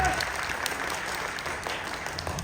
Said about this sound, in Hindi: इनके लिए एक बार जोरदार ताली बजाएं